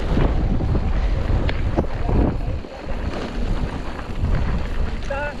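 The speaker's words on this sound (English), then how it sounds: "Sheesh, that wind." Strong outdoor wind buffets the microphone in a steady, loud low rumble with gusty swells while riders push loaded bikes carrying frame bags and backpacks across exposed country.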